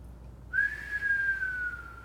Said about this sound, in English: By the way, the whistle is breathing out